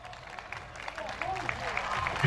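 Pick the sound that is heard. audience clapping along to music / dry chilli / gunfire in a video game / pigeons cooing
audience clapping along to music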